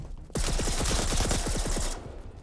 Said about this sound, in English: it's a standard assault rifle, submachine gun